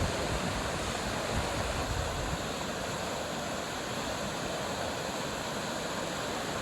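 A river rushes through rapids in a gorge on a hiking route from Hozukyo to Takao in Japan, a loud, steady broadband roar that continues unbroken throughout.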